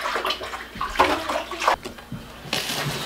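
Tap water runs into a sink during hand washing, an uneven splashing flow that swells and dips in bursts, fairly faint and without talking.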